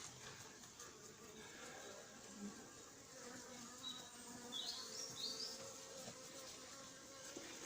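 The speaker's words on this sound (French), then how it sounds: "Les abeilles." A clustered honeybee swarm hums as a faint, continuous buzz in quiet outdoor air, with a few brief higher insect whines passing close midway.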